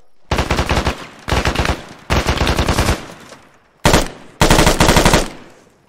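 Automatic rifle fire in the video game Arma 3, five long loud bursts of rapid shots separated by brief pauses, close and dominant.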